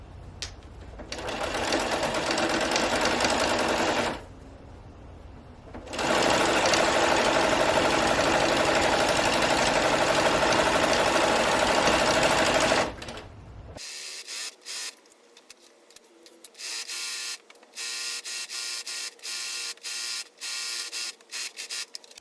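A sewing machine stitches a fabric ruffle for a farmhouse-style pillow, running in two long loud near bursts separated by a short pause, then switching to rapid stop-start stitching.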